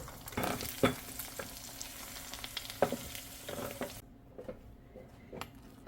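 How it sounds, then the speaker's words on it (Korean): An egg frying in a pan in a home kitchen, a steady close sizzle with a few sharp clinks of a utensil against the pan; the sizzle drops quieter partway through. "달걀 프라이를 저는 합니다"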